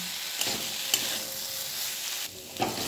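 Poppy seed paste being stirred and fried with potato and cauliflower in a pan, a continuous close sizzle with occasional light scrapes and taps of the spoon.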